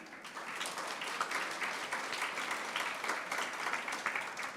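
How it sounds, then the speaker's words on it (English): Steady applause from an online symposium audience honoring its speakers, a dense wash of clapping that stays even and moderately quiet throughout. "A round of applause for them."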